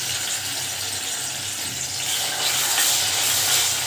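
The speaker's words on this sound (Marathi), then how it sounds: "आता हे तेलामध्ये मी चांगलं फ्राय करून घेते" Onion, tomato, ginger-garlic and garam masala fry in oil for an egg curry, giving a dense, close sizzle with rhythmic scraping and stirring in the pan.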